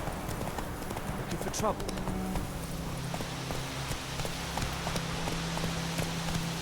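Roach the horse's hooves clip-clop in The Witcher 3, a steady near rhythm of hoofbeats on ground mixed with ambient game sound while someone speaks over them.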